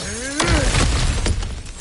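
A crashing smash through an obstacle in God of War Ragnarök, a loud breaking impact with shattering debris scattering after, up close.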